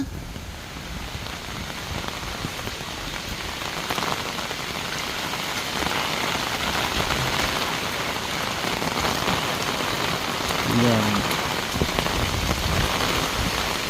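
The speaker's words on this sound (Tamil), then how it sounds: "சரியான முறைக்கு மழை" Heavy rain with strong wind pours down steadily, a dense, unbroken roar of drops drumming on surfaces throughout, with no voices.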